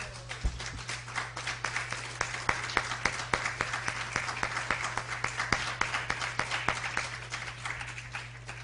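A church congregation claps together in sustained, steady applause, fairly faint and roomy, over a constant low electrical hum.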